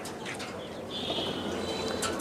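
Pigeons kept three to five to a cage, with soft cooing and a thin chirping call over a dense, fluttering background of flock noise. No one speaks.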